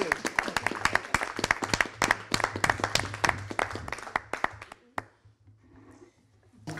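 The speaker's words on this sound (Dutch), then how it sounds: "ik wil heel graag met elkaar een groot applaus voor al die vrijwilligers geven" A crowd applauding volunteers at a village living-room project gathering, loud close individual claps in a busy irregular patter that thins out and stops about two-thirds through, leaving quiet room noise with faint voices.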